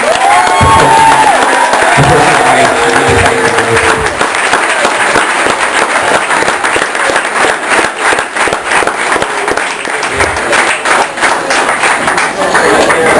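An audience at a benefit event bursts into loud applause with cheering and whoops for an anonymous donor, a dense, sustained wash of clapping close by, after a brief spoken line at the start.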